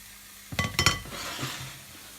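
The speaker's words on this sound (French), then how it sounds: "on prend les girolles qui ont été égouttées. On va les mettre dans la poêle." Drained chanterelle mushrooms tipped into a frying pan, a couple of quick clattering knocks against the pan followed by a soft rising sizzle that fades, close and moderately quiet, with no talking.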